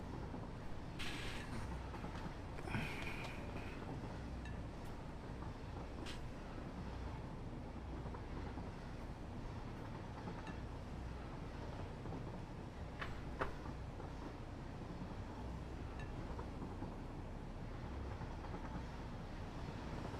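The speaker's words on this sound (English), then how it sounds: "We'll take the locomotive. We'll just ride it." A locomotive ride in a video game: a steady, continuous rumble of the rolling train with faint rattles and a few soft knocks throughout. No one speaks.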